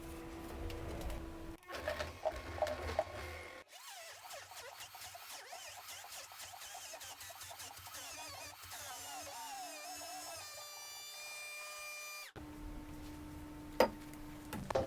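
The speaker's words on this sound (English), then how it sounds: "we're going to turn on the Vitamix" A Vitamix blender churns frozen bananas into ice cream with a loud, steady motor roar. Its pitch climbs into a rising whine partway through, then cuts off abruptly, leaving quiet room noise.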